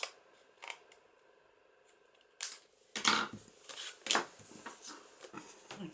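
Scissors snipping through a large paper tag for a junk journal, a few close, crisp crunchy cuts in uneven bursts after a quiet start.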